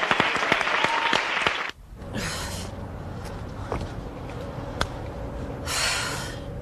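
Audience applause and shouts of bravo after an opera, a loud burst of clapping that cuts off abruptly, followed by a quieter room and a second short swell of clapping near the end.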